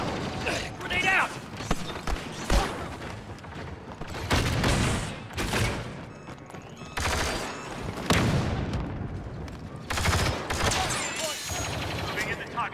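A grenade blast and bursts of gunfire from the shooter game Star Wars Battlefront 2 come in repeated loud booms and rattling volleys, with mechanical clanks between them.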